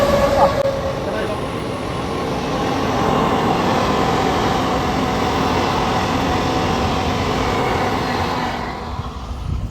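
A train rumbles steadily past, its rolling clatter sustained and fairly close, with some speech mixed in.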